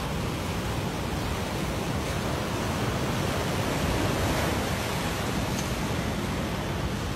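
Autumn Adriatic sea waves off the Italian coast give a constant, loud wash of surf, an even roaring hiss that holds for several seconds with a slight swell near the middle and no voices.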